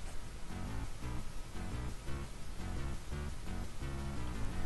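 Duke Nukem DOS game music with the Sound Blaster music setting, sounding as a steady, fairly quiet synthesized loop with regular rhythmic pulses and dense, grainy tones, no talking.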